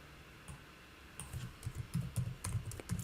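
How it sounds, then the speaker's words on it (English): Typing on a computer keyboard while building a website: a quiet run of quick, close key clicks that speeds into a dense burst over a few seconds, with no talk. "this I'll just type it in"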